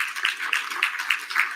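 Audience clapping in a rhythmic pattern of roughly five distinct claps, moderately loud and close. No other sound stands out.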